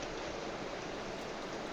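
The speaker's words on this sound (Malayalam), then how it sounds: "കുറച്ചും കൂടി വെള്ളം ഒഴിച്ചു കൊടുക്കാം." Water is poured steadily while making homemade toothpaste, a continuous soft rushing splash that runs unbroken through the short moment at low level, with no voices.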